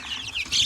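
Chicks and chickens at a home poultry flock of Orpington and cream Legbar birds peep and cluck in short, high chirps close by, with a brighter burst of peeping near the end.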